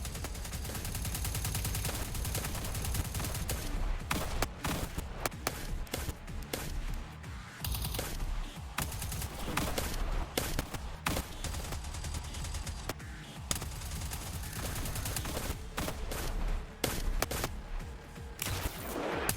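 A dense firefight inside a hangar in a video game, with overlapping bursts of automatic and single gunshots crackling continuously and loudly, without pause and without talking.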